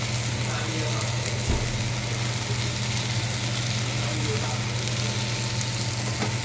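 Ground spices and red chilli powder sautéing in a pan with salt and a little sugar, a constant close hiss of frying under a low steady hum, with an occasional stir or clink.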